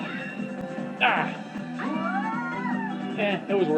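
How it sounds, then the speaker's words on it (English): A house cat meows loudly in a series of drawn-out, rising and falling cries, heard near and over video game sounds playing in the room. "That's my cat, the loud one."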